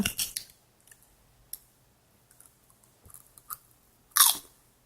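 Someone bites and chews a potato and cheese dish, giving a few sharp crunchy bites and soft, sporadic chewing clicks that stay close and fairly quiet against near silence.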